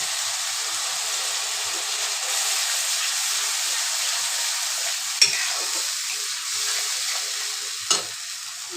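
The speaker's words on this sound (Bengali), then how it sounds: "আমার ভাজা কষানো হয়ে গেছে, তেল ছেড়ে দিয়েছে।" Ground spice paste and chili powder sizzle steadily in hot oil while being stirred for a pointed gourd masala, a continuous close frying hiss with two brief clinks of the utensil.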